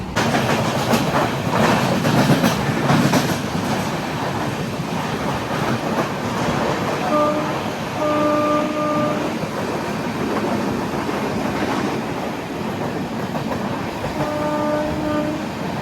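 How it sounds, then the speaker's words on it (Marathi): A train bound for Goa rumbles loudly with a steady clatter of rolling carriages as it runs and slows into Kalamboli station. Several sustained horn tones sound in the middle and again near the end. "आपली कलंबोलीला ट्रेन थांबलेली आहे"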